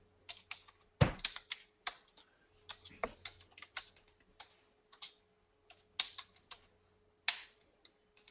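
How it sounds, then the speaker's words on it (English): Keys clatter on a computer keyboard in irregular bursts of close, crisp taps with short pauses between, nobody talking over them. "As soon as Webster's done typing there"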